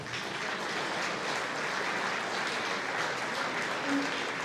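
Audience applause at a soccer club Wall of Fame awards event, a steady, fairly distant wash of clapping that holds evenly for several seconds.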